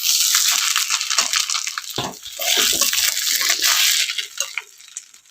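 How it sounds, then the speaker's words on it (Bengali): Water gushes into a cooking pot of rice, 600 grams over 300 grams of grain, a loud splashing pour that wavers and breaks up toward the end as the flow tapers off. "300 গ্রাম চালের সাথে 600 গ্রাম জল দিয়ে"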